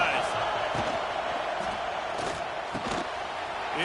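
Stadium crowd noise in the NCAA 26 college football video game, a steady roar of a large crowd with occasional thumps and swells, heard under commentator talk.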